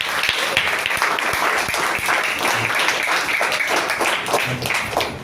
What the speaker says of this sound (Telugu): ఒకసారి అందరు క్లాప్స్ కొడతారండి